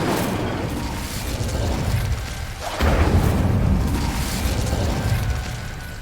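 A fiery Incendio spell explodes in Hogwarts Legacy, a loud, sustained roaring blast with a sharp surge near the middle that keeps rumbling steadily afterward, with no talk.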